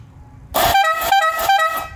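A red three-pipe air horn fitted on a motorbike, one with a pipe disconnected, blares suddenly and holds a loud, brassy, pulsing blast close up for over a second.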